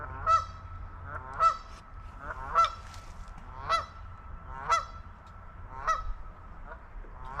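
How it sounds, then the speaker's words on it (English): Geese honk repeatedly in a steady rhythm at Six Mile Lake Provincial Park, Muskoka, about six loud calls spaced roughly a second apart over a low background rumble. "Looks like the geese want some too."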